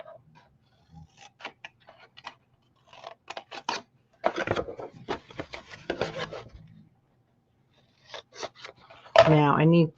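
Scissors with something sticky on the blades snip during a New Year's Eve craft project, making short, sharp clicks and cuts in scattered bursts separated by quiet pauses, with a brief voice near the end.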